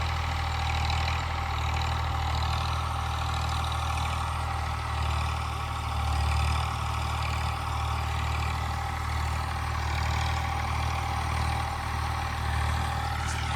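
A tractor runs in a farm field at night, its engine giving a steady, low rumbling drone with a constant hum, continuous and unchanging across the whole stretch.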